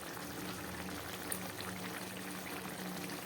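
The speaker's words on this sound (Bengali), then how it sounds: "ঝোলটা ফুটে উঠেছে" Fish curry with yoghurt bubbles at a rolling boil in a pan, a steady close simmering burble that runs on continuously and quietly with no voices.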